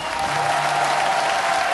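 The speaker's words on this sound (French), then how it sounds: "On vous applaudit très fort." A television studio audience breaks into brisk, dense applause, a close and steady wash of clapping throughout the short stretch.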